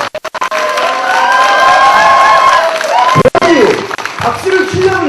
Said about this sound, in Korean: 박수를 치려면 치고 말라면 말아요.